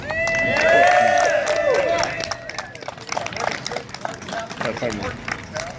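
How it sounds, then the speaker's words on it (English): A rally crowd cheers and whoops loudly, then breaks into a long spell of scattered clapping, with voices calling out through the noise. "Give another round of applause for Wayne Justman."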